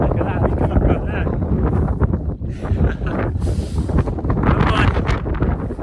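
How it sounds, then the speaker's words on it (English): Strong wind buffets the microphone on the exposed summit of High Willhays on Dartmoor, a loud continuous roar with gusts, while a person speaks briefly over it. "God, it's getting windy up here."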